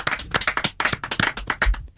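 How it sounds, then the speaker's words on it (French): Applause from an old radio archive recording: a small crowd claps in uneven, closely spaced bursts, fairly close and distinct, with little else audible. "Et là, il y a les applaudissements."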